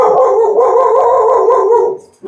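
A dog barks and howls loudly up close in one sustained, wavering run of about two seconds that drops off sharply at the end.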